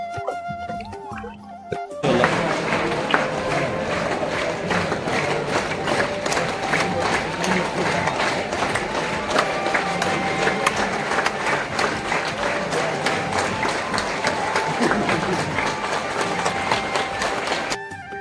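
A large crowd gathered at a temple for the early-morning 5 a.m. aarti, a dense continuous wash of many voices, bells and ritual sound that starts abruptly and stays loud and steady throughout.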